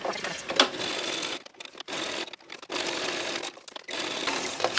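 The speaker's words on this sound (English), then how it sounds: "let's just quickly sew around this" A sewing machine stitching around a lace piece runs in close, quiet bursts of rapid mechanical whirring, stopping and starting several times with short pauses between runs.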